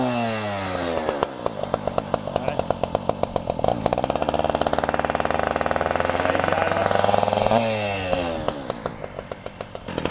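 An EFR vent saw's small two-stroke engine runs steadily at high idle, a loud, continuous buzzing drone with a brief rev at the start and a drop back near the end, no talking over it.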